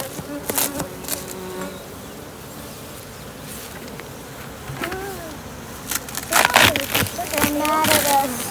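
Agitated honey bees swarm around a freshly opened hive during a honey extraction, a dense, steady buzzing close by, rising and falling, with scraping noises and people talking now and then.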